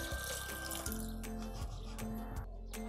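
Water pours steadily from a tap into a pot of cooked dal with tomato and turmeric in a home kitchen, a continuous close splashing rush that runs unbroken throughout with no talk.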